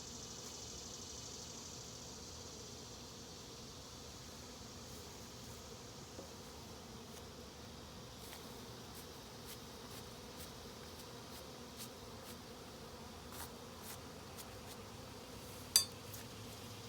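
Honey bees buzz steadily around an open hive during a frame transfer from an absconding colony, a continuous low drone with faint clinks and a sharp tap near the end.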